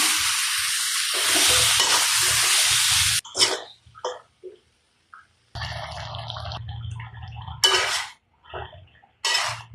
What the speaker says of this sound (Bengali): মশলা কষিয়ে নিলাম, সিম আলু দিলাম